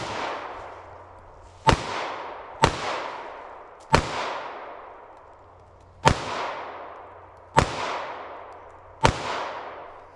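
Six sharp gunshots from a PSA Dagger Micro pistol ring out at uneven intervals, each loud crack followed by a long echoing decay, with no talk over them.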